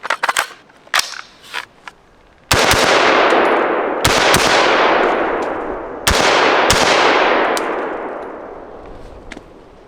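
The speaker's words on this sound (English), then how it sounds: "Let's try the new SA16 with one of these ETS mags." A Springfield SA16A2 rifle fires several sharp, loud shots close by, spaced a couple of seconds apart, each followed by a long echoing decay, with a few lighter clicks and handling noises at the start.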